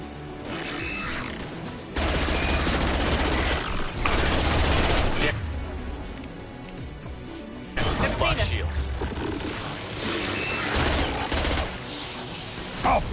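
Rapid gunfire in Mass Effect 2 bursts loud and dense in several volleys with brief lulls between them, mixed with combat noise and shouted voices.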